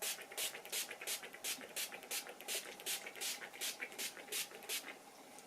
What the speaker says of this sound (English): to set this whole look, I'm going to be using my Urban Decay Slick Oil Control Setting Spray